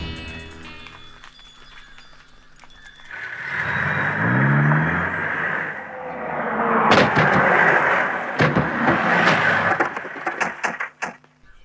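A car is driven out amid a busy outdoor scene, with a rising engine rumble, a few sharp thuds like doors or bangs, and a steady vehicle roar that swells toward the end.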